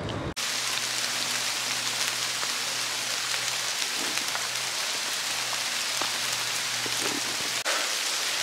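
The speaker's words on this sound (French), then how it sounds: "il pleut comme vache qui pisse" Heavy rain pours steadily at a bivouac campsite, a dense, constant hiss of drops drumming on surfaces close by, with a low steady hum beneath and no voices.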